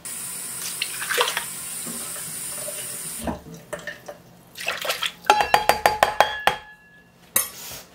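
Warm water running from a kitchen tap into a measuring cup while making chocolate hot cross buns, a steady stream followed by irregular splashing, clinks and drips close by.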